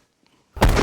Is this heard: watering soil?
no